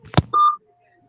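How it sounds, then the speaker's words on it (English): A short electronic beep sounds once as a steady tone, just after a brief thump, during a live stream, then fades into quiet. "there's like a beeping noise"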